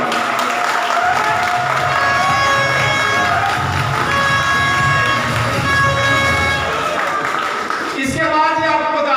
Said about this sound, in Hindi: तो ये आप इनके लिए भरपूर तालियां।